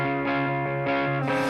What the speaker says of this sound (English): You can still hear the distorted tone, but the volume's lower, right?